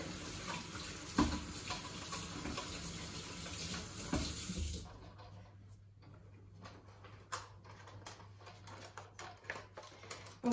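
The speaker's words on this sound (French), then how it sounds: "je vais vite rincer mes fouets" Tap water runs into a kitchen sink as whisks are rinsed while making a rolled Christmas log cake, a steady splashing flow for about five seconds that then stops, leaving quiet clinks and handling sounds.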